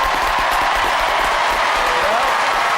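A large crowd at a Robot Wars arena event applauds the Robochicken team, giving a steady, loud wash of clapping and crowd noise that holds for the whole stretch.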